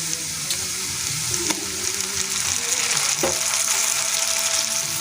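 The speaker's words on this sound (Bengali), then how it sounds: "এবার টমেটো দিয়ে দেবো।" Chopped onions, fried until reddish-brown, and freshly added tomatoes fry in a pan for a Bengali lote fish dish, giving a close, continuous sizzle with occasional scrapes and stirring noises.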